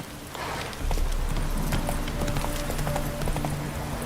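Galloping hooves of Roach, a horse in The Witcher 3, thud in a fast, steady beat over a low rumble and faint tonal game sounds, moderately loud and continuous.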